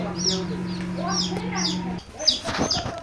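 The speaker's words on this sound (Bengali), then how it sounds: "লেয়ার মুরগি ডিম দিছে" Layer hens on a poultry farm cluck and squawk in short bursts nearby over a steady low hum, with more scattered clucks after a brief pause.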